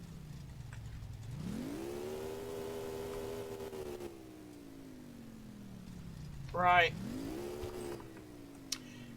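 A car engine in a garage, fitted with an exhaust yet still loud, revs up and falls back twice in slow rising and sinking sweeps, close by, with a brief spoken word.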